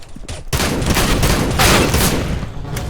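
Shotgun fire in CS:GO, a loud, dense volley of blasts after a brief lull, with repeated heavy shots overlapping through the rest of the clip.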